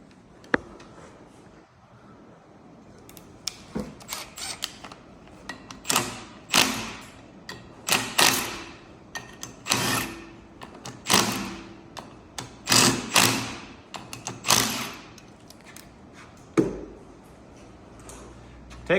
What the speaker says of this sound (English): We are only going to take out the 1/2 inch bolts.